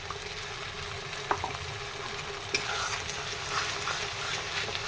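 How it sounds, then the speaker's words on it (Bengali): Chopped onions sizzle in a pan as a ground spice paste is stirred in, a steady frying hiss with occasional scrapes and taps of a spoon against the pan. "পেঁয়াজটা আমার ভাজা হয়ে গেছে। এবার আমি মশলাটা দিয়ে দিলাম।"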